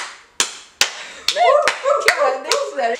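Sharp hand claps ring out alone and close, a few evenly spaced smacks, then give way to a high squeaky voice imitating a seal's barking calls over further claps.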